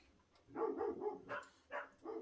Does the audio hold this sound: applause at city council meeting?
no